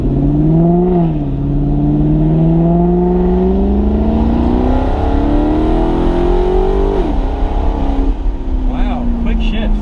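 A straight-piped Maserati GranTurismo MC engine drones loudly, its pitch sliding up and down through gear changes with a rising rev around seven seconds, while a voice talks over it.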